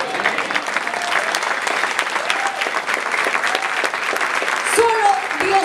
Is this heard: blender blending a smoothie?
no